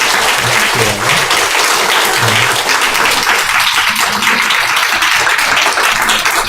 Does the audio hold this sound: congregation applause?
yes